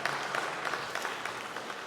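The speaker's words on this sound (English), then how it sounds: "Spontaneous round of applause, not everybody gets that." Audience applause at a scholarship dinner, a steady spontaneous round of clapping from a crowd filling the whole moment at moderate volume.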